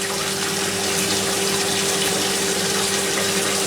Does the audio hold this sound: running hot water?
yes